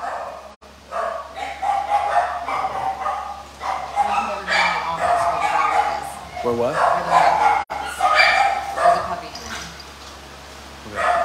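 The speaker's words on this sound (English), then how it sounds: "There's a puppy." A puppy at an animal society fundraiser barks and yips in quick, excited bursts close by, with people talking over and between the barks.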